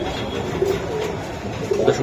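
Pigeons coo at a wholesale pigeon market selling racers and Budapest and fancy breeds, low throaty calls repeating close by over a busy crowded background.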